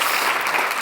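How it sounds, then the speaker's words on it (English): A conference audience at a climate and health plenary gives a speaker a dense round of applause, loud and continuous throughout with no talking over it. "can we once more have a big round of applause for Kristie Ebi?"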